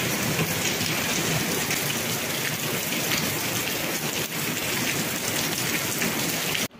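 Heavy rain pours steadily on surfaces, a loud dense hiss of drops close by, continuing without pause until a brief break at the end.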